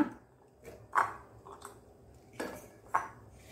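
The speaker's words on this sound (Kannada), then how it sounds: "ಮೊದಲಿಗೆ ಒಂದು ಕುಕ್ಕರ್ನಲ್ಲಿ ಈ ಹೆಚ್ಚಿಟ್ಟಂತಹ ನಮ್ಮ ಬಸಳೆಯ ದಂಟುಗಳನ್ನು ಹಾಕೊಳ್ಳೋಣ" Quiet clinks and soft knocks as chopped Malabar spinach stalks are dropped into a metal pressure cooker, a few scattered taps with faint shuffling between.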